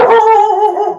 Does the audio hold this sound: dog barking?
yes